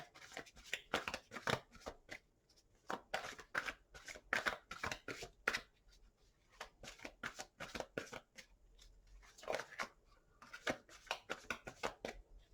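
Tarot cards being shuffled repeatedly, quick papery riffles and flicks in bursts with short pauses between, close and fairly soft.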